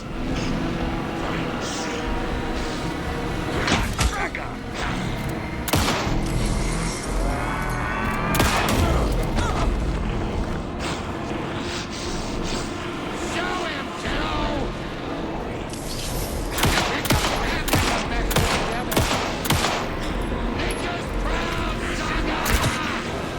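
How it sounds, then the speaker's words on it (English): Bursts of gunfire from an Alan Wake 2 shootout recur amid crashes and impacts, layered under the voices of characters talking throughout. "Anderson, pin him down with gunfire for me to get the light on him."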